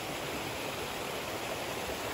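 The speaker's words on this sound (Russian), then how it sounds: "Не знаю, что вам еще показать, но это типа водопады." A waterfall in the mountains near Sochi roars in a steady, dense rush of white water, close and unbroken, with no voices over it.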